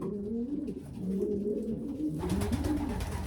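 A three-month-old young racing pigeon coos in low, repeated throaty rolls close by, steady throughout over a faint background hiss, with no voices.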